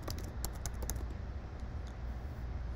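Quick, light keystrokes on a computer keyboard as a password is typed, a steady close run of clicks with no voices.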